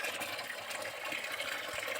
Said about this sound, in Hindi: देख रहे हैं बाल्टी भरने जा रहा है